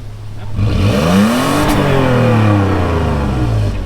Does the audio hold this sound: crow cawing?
no